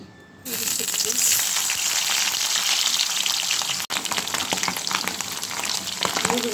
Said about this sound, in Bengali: এখন শুটকিটা বসাবো কড়াইতে তেল দিয়ে দিচ্ছি